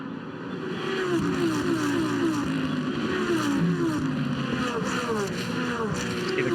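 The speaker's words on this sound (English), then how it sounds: "Cars bouncing over the bumps." GT Masters race cars at Zandvoort bouncing over track bumps during a race, a loud continuous engine drone with sweeping pitch changes as cars pass, steady and close throughout.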